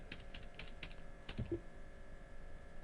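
Keystrokes on a computer keyboard while entering data in Tally Prime accounting software, a handful of quiet, separate taps spread across the moment with a few soft clicks close together, no voices.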